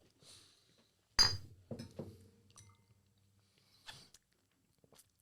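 Bottles clinking together in a toast, one sharp glassy clink followed by a few quieter handling knocks and small taps in an otherwise quiet room.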